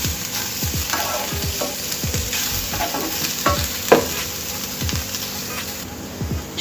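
Taro root (chamadumpa) frying without oil in a pan for a spicy stir-fry, a close dry sizzle broken by regular scraping strokes of a spatula roughly every second.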